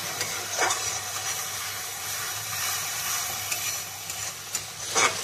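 Spice paste frying in oil in a home kitchen pan, giving a steady, close sizzle and hiss, with a few louder scraping stirs of a spoon near the start and end.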